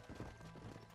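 A horse's hooves gallop in the video game Red Dead Redemption on Xbox One, a quick, faint run of muffled hoofbeats lasting barely a second over a low rumble.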